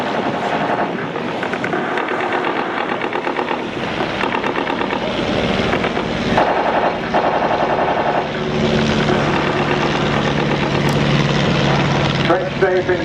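A WWI Junkers monoplane with corrugated aluminium metal skin flies at a seaside air display, its propeller engine droning loudly and steadily while a commentator talks over it.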